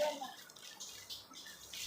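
Tap water runs at home in a faint, steady hiss that continues throughout, with soft voices in the background.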